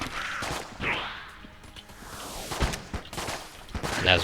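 Gun fire in the video game Enter the Gungeon comes in short bursts of sharp, quick shots, mixed with whooshing game effects and a rising sweep, fairly loud and irregular.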